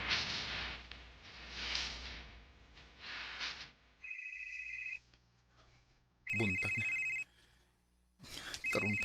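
A telephone rings with an incoming call in bursts of electronic ringtone, alone after a stretch of quieter background sound, repeating three times with short pauses between.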